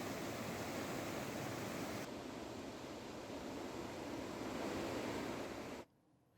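Rushing river water in hilly Uttarakhand, a loud steady broadband roar with no talk, cut off abruptly near the end.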